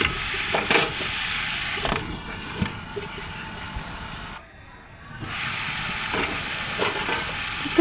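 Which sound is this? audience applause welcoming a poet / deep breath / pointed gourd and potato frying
pointed gourd and potato frying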